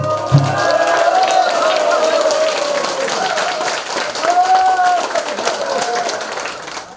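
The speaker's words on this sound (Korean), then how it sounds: "관객들의 큰 박수를 받았습니다" An audience claps after a stage performance at a concert, a dense wash of applause that carries throughout while a voice speaks over it.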